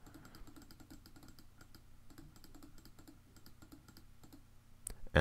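Rapid, repeated mouse clicks in computer software, a steady stream of light taps at close range with no talking, ending in a sudden louder thump.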